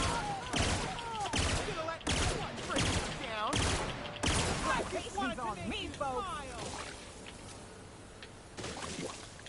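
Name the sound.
gunfire in the video game The Outer Worlds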